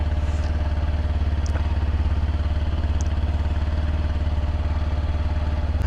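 A motorcycle engine idles fast, above 2000 rpm, just after a cold start, with a steady close throbbing drone and a few faint clicks over it, and no voices.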